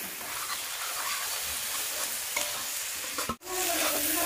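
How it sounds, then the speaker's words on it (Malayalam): Onions being stirred as they fry in a pot for a spicy Kerala chicken curry, a steady near sizzle with scraping stir strokes and a brief pause near the end. "അടപ്പ് തുറന്ന് നമുക്കൊന്ന് ഇളക്കി കൊടുക്കാം."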